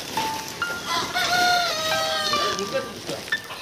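Sonali chickens and tethered roosters at a farm during weighing, with a rooster crowing and hens clucking in overlapping calls, fairly close.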